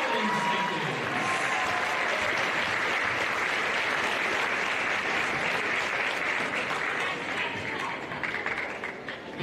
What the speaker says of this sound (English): we round of applause for the bronze medalists